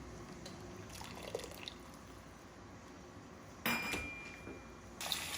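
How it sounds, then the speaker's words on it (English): Hot blanching water drains off blanched broccolini held in a slotted spoon, soft trickles and drips at first, then two louder splashy bursts of water pouring back into the pot. "I like to use a spoon, a slotted spoon, so that I can pick it up and it will drain the excess hot water"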